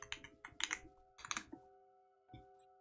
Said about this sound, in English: I'm just typing out these notes.